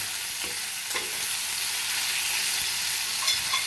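Chicken fries in a pan with a continuous close hiss and sizzle, steady throughout and joined by a few soft stirring knocks, with no talk.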